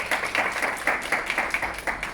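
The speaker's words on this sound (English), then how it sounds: "Are we clapping hands for her?" An audience claps at a business talk, a steady crowd applause with quick overlapping hand claps that rises and falls in waves, moderately loud and with no talking over it.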